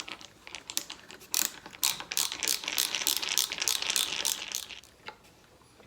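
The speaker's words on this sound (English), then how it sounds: "You may notice I switched to a little ratcheting screwdriver." A small ratcheting screwdriver drives screws into an oak console leg assembly, giving a quick series of close, crisp clicking bursts with short pauses between them.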